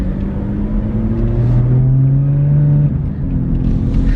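A BMW F80 M3 with a Bootmod3 stage 2 tune accelerates, its engine note rising steadily in a loud, close drone from inside the car, then easing off before building again.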